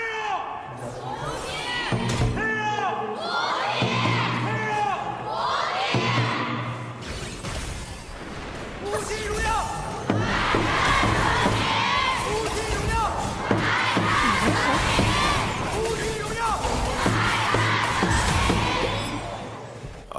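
An esports arena audience at a Honor of Kings tournament match cheers and chants for their teams, a loud sustained crowd roar with rhythmic shouting swelling and fading.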